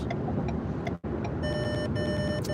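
Proximity sensor warning tones from a car in traffic, a steady series of high electronic beeps starting midway and continuing over constant road rumble, with a brief dropout just before they begin.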